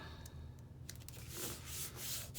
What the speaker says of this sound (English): You just make sure you burnish it, you know, burnish it good.